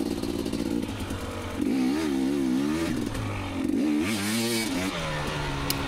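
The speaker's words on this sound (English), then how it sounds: "get back on our dirt bike and yeah, try to get up to speed a little bit" A 2019 KTM 250xc two-stroke dirt bike engine revs and accelerates up close on an off-road track, its buzzing pitch climbing and wavering in repeated surges with some clatter, loud and steady throughout with no talking.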